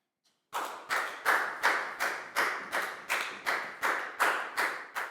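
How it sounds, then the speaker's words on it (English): Students in a primary maths lesson clap for a classmate in a loud, regular rhythm of sharp, evenly spaced unison claps, about a dozen in a row after a brief silence. "High five and a big round of applause for Lackow, please, guys."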